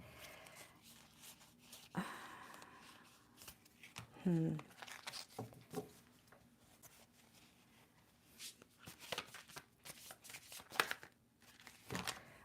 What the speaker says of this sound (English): I want to shuffle 3 times and cut